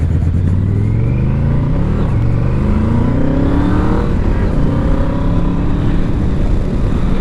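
A Yamaha VMAX motorcycle engine running rough, a loud steady drone close by that rises and falls slightly in pitch through the ride, without talk over it.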